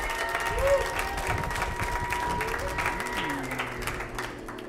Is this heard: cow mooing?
no